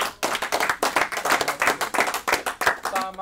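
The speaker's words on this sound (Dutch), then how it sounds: "Het applaus klinkt van familie en vrienden" A crowd of family and friends clapping steadily and warmly in the Philips Stadion, a dense patter of hands lasting several seconds, fairly close.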